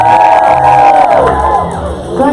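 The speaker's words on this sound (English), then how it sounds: "Cheer for yourselves, please." The audience at a steampunk convention fashion show cheers loudly, a dense mix of shouting, whoops and crowd noise that swells and then eases slightly.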